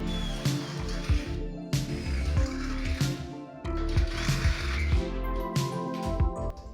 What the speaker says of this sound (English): I already drilled the small holes with the pilot bit, so now we're going in with the larger size bit